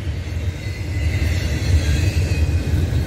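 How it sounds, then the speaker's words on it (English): A 2.5-mile-long Norfolk Southern freight train rolls past during a race with a CSX coal train, a loud, steady low rumble with rattling wagons and wheel noise throughout. "Oh no way, a train race!"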